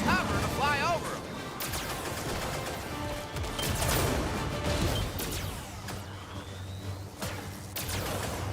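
Laser turrets fire in a video game as a rapid series of sharp zaps and cracking blasts with sweeping electronic tones, dense and loud throughout, with a voice speaking over part of it.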